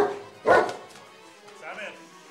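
A dog gives one sharp bark at close range, then a softer yelping sound follows, under a noisy comedy-skit background.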